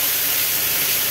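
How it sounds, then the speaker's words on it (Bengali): Mixed vegetables with yogurt and a little water being sautéed into a gravy in a pan give off a steady, dense hiss of steam and sizzle, close and continuous throughout the brief moment. "এই দেখুন কত সুন্দর কষানো হচ্ছে"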